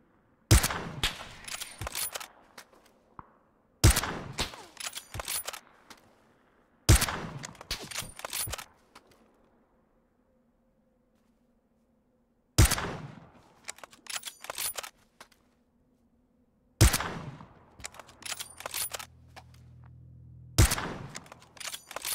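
Bursts of gunfire in the PUBG battle royale game, six separate volleys of rapid sharp shots each lasting a second or two, loud and close, split by stretches of near silence with faint background hum.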